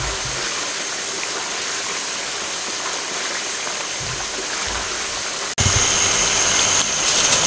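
Mutton keema cooks in a karahi over a high flame, giving a loud, steady sizzling hiss that jumps louder partway through.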